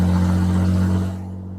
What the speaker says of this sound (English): It's weird driving the drift car on the street.